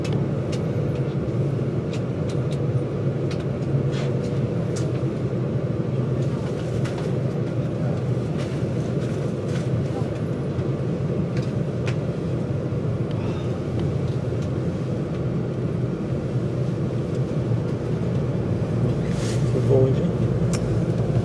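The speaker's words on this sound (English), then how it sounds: "It definitely is a Voyager because I can hear that rumbling sound." A Voyager train rumbles at a station platform with a low, steady engine drone that holds constant and fairly loud throughout, while voices talk over it.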